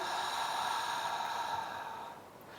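A long, soft exhale during a stretching exercise, a breathy airy release that fades out near the end, heard alone and close.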